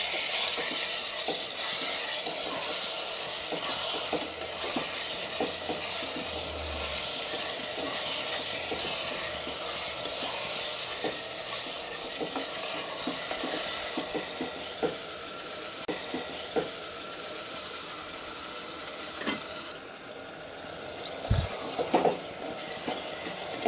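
Washed raw chicken being mixed in a pan for a drumstick curry, a steady hiss and sizzle with faint scrapes and a few clinks, heard alone without speech.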